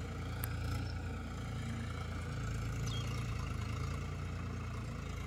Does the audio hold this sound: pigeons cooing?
no